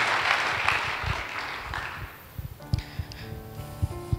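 Congregation in a church gathering applauding their Lord, a dense wash of clapping that fades out after a couple of seconds, followed by scattered knocks and a faint musical tone.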